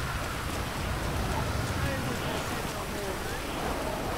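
Steady rain pours down in GTA V, a constant, even hiss, moderately faint and unbroken throughout.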